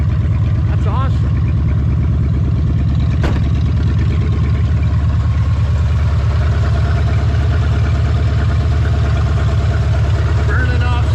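A 1970.5 Ford Falcon engine idles steadily after its first start, a close, loud, even low rumble with a regular pulsing beat throughout, broken by a brief sharp click partway through.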